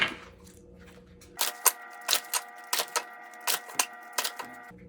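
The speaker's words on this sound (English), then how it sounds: "let's pull out these cards" Cards are pulled one by one from a tarot deck, a series of about eight crisp, close slaps and flicks spaced across a few seconds after a quiet start, with no talking.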